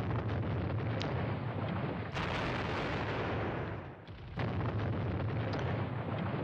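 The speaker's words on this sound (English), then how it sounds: "the Germans go first here, and they're opening up some pretty heavy barrages here" Heavy German artillery barrage in the wargame Squad Battles Red Victory at Ponyri: dense, continuous rumbling explosions with sharp bursts at a few moments and a brief dip before the pounding resumes.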